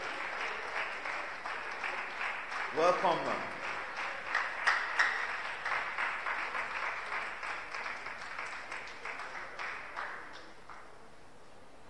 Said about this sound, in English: Please help me put the claps together until she comes to the high table.